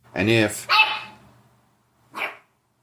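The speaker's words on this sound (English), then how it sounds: "Is he barking at us or was he barking at the door?" A small dachshund barks sharply a couple of times up close, then a brief pause before one more yappy bark.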